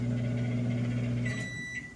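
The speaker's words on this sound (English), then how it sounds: "There's the beep." A microwave oven finishing a confetti mug cake sounds a bright, sustained electronic beep over a steady low hum that cuts off midway, the beep ringing clearly and close in an otherwise quiet kitchen.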